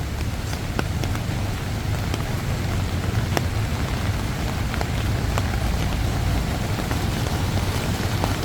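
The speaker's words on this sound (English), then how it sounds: "this rain basically freshens up the air" Steady, heavy monsoon rain pours down continuously in Bangkok during the rainy season, a dense hiss of drops on surfaces with occasional louder splats, and no voices.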